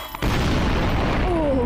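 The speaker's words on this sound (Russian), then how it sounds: "мне надо проскочить и бомбу взорвать" A bomb explodes in the video game Garry's Mod: a sudden loud boom breaks through after a short quiet stretch and rolls on as a dense, sustained rumble, with a faint tone sliding upward near the end.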